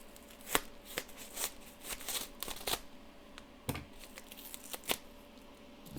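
Scissors cut open a padded mailing envelope that holds a book, with repeated sharp snips and crinkling tears of the padding at close range. No voices are present.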